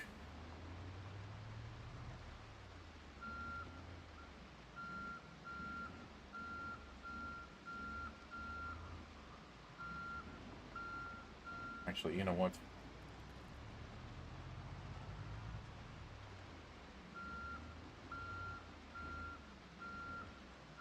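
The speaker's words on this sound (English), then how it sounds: "Let me go ahead and back up the truck" A truck's reversing alarm beeps at an even, repeating rhythm over low engine rumble in the video game Project Zomboid, with a brief clunk midway and a voice talking.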